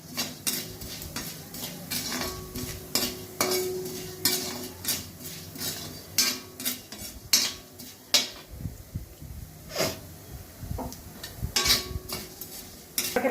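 Ingredients for karam podi dry-roast in a pan while a spoon scrapes and knocks against the metal in repeated sharp strokes. A faint sizzle sits underneath, and no one speaks.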